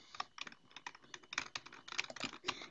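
Computer keyboard being tapped in quick, uneven bursts, a dozen or so close crisp key presses with brief pauses between them, no talking.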